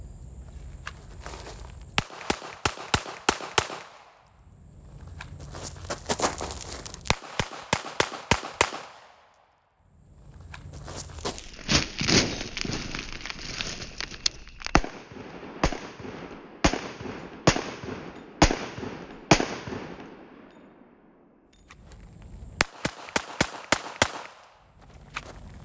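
Handgun shots fired from alternate shooting positions during concealed carry training, loud and near in several rapid strings of sharp cracks separated by short pauses, with footsteps and movement between strings and no talking.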